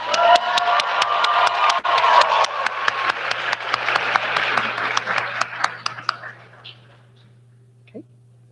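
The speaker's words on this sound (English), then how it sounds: "Join me in a round of applause for Joy." An audience applauds at a graduation hooding ceremony, with dense, steady clapping from a crowd in a hall that thins out and fades to near silence after about six seconds.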